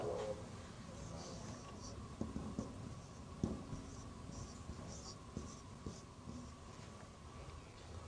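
Pen or pencil writing down a word, faint scratchy strokes and small taps scattered through a quiet room, with soft muffled sounds in the background.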